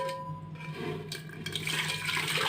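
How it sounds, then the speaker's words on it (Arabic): Tamarind liquid pouring into a blender cup, a steady close trickling and splashing stream that grows fuller and brighter as the pour goes on, with no talking. "ونبتدي ننزل فيها كل السوائل اللي كانت موجوده"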